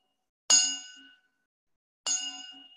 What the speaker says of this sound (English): I've improvised myself with some water in a steel glass.